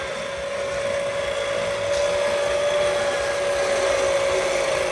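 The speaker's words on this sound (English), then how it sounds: "The winch has a good speed to it, and this is actually a pretty steep incline that she's being pulled up." An OpenRoad Panther 2S electric winch pulls a vehicle up a steep incline, giving a steady, even motor whine with a constant tone that holds for the whole stretch, fairly close and loud with no talk.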